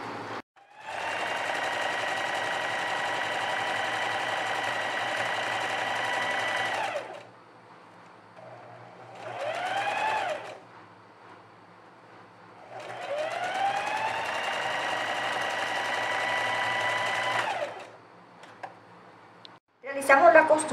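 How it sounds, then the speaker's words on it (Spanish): A sewing machine stitches a seam on a ruffled blouse top in two long, steady whirring runs, each lasting several seconds, separated by a short burst and pauses, close and fairly loud. "Y realizamos la costura para luego voltear."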